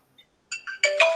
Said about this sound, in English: Julie, is your phone ringing?